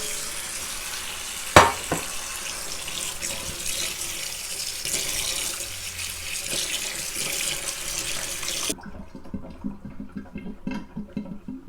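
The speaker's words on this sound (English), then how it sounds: "Get your wild garlic and wash it under cold water." Wild garlic is washed under cold running tap water, a steady hiss of water from a kitchen tap with a sharp clunk early on, then the flow quietens near the end.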